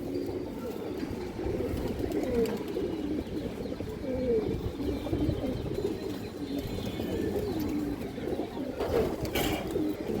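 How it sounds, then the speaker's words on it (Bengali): Pigeons coo softly and continuously, a low murmuring mix of several birds close by with a faint background hiss. "দর্শক একটা মুসলমান নর কবুতর আছে"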